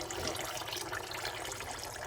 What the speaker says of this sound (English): I'm just letting the water fill in